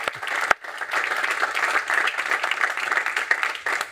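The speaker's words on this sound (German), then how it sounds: "Also nochmal ein extra Applaus für Herrn Schmidt." Audience applause at a professional conference event, a steady moderate round of many people clapping, continuous for several seconds with no talk over it.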